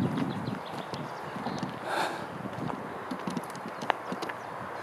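Horse hooves clip-clop steadily along a forest path at moderate distance, a regular walking rhythm over rustling outdoor ambience.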